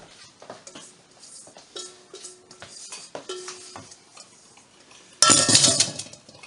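Spoon stirring a sugar and cinnamon mixture in a bowl, a run of close clinks and scrapes against the dish, ending in a louder burst of rattling and scraping, with no talking.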